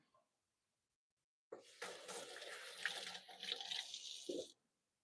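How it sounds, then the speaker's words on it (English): Hands being rinsed under a running kitchen tap while cooking, a steady splashing water stream for about three seconds at close range, starting and stopping abruptly, with no talk. "I'll give my hands a quick rinse now."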